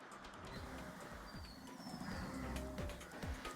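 Birds calling outdoors in the morning: soft pigeon coos and scattered chirps over a quiet, airy background, fairly distant and gentle.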